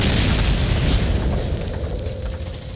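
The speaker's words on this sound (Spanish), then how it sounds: "Disparamos el lanzacohetes y..." A loud, close explosion as a rocket launcher shot strikes a PT-76 tank, a heavy booming roar that rumbles and slowly fades over a few seconds.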